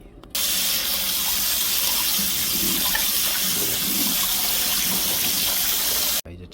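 Jjajangmyeon noodles rinsed under cold running tap water: a steady, close gush of water starts abruptly, pours evenly, then cuts off just before the end.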